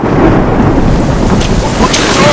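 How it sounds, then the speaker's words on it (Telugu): A rain and thunder effect on a film set gives a continuous loud rush of rain with low rumbling underneath and some wind-like buffeting, holding steady without a clear break. "ఇంకే రీగా రెయిన్ ఎఫెక్ట్ కూడా వాడుకోవచ్చు"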